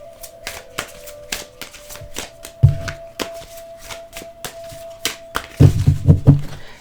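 Thick tarot and oracle cards being riffled and shuffled by hand, a rapid series of crisp slapping clicks with a couple of heavier flutters, close and with no talking.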